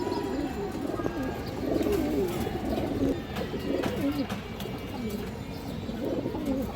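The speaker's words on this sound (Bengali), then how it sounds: "খুব সুন্দর একটা খাকি মাদি কবুতর" Khaki pigeons, including a female, coo steadily in low repeated phrases close by. Their calls overlap each other, with faint chirps and a little background noise.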